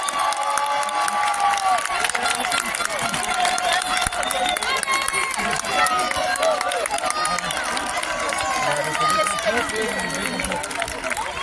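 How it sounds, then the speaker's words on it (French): A crowd outdoors at the Grands Jeux of the Montagne Bourbonnaise, held at a campground in Lavoine, applauds a women's team. Steady clapping and cheering fill the clip beneath shouting voices and an announcer talking. "On les applaudit."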